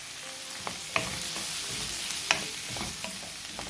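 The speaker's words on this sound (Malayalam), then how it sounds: "2 മിനിറ്റ് നേരം ഇതിലിട്ടിട്ട് നമുക്ക് വഴറ്റിയെടുക്കാം. 1 തക്കാളി ചെറിയ കഷ്ണങ്ങളാക്കി കട്ട് ചെയ്തത് ഇട്ട് കൊടുക്കുക." Tomato and green peas sautéing in a pan, with a soft steady sizzle and occasional sharp scrapes and clicks of a spoon stirring, close and fairly quiet.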